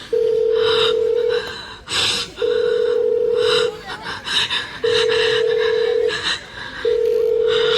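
Repeated steady electronic tones in long bursts, like a phone dialing or ringing back, with brief breathy vocal sounds between them.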